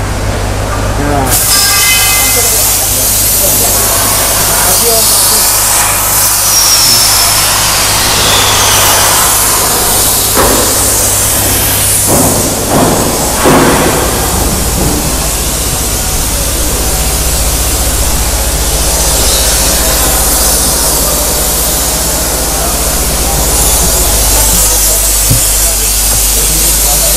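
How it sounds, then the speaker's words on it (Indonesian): A spray gun sprays carpet glue inside a bus body in a workshop, giving a loud continuous hiss over engine-like rumble, with bursts and clatter and people talking throughout. "Untuk memasang karpet ini, bagian dasar kita semprot lem, terus bagian bawahnya karpet juga kita semprot lem."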